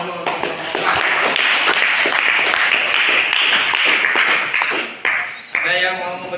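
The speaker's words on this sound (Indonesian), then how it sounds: "tepuk tangan dulu untuk teman-teman" A classroom of students applauds their classmates, a dense sustained round of clapping that fills several seconds before fading, with voices mixed in.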